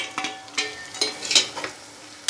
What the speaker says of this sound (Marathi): आपण यात आता दाणे खोबरं टाकून देऊ